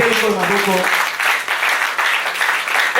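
A church congregation claps loudly and continuously in praise, dense and close, and a voice speaks over the start of the applause.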